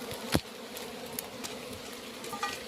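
Bees buzz around a large wild honeycomb being harvested for natural honey, a faint steady drone with a few sharper close passes of individual insects, no voices present.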